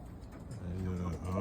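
Roller pigeons coo in low, soft, rumbling phrases from close by. A voice speaks over the birds in places.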